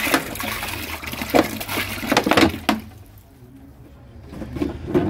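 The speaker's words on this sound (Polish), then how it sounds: "Na początku ja wleję 5 litrów wody." About five litres of water is poured into a container on a balcony to start a brine, making a gushing, splashing stream that fades into a quieter trickle partway through and then swells again.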